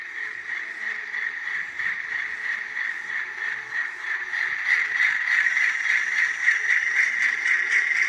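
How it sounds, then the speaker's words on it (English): An N-scale model Alco locomotive powering up, a steady high whirring motor drone with a light mechanical rattle that grows slightly louder and busier partway through. "You hear that alco come to life"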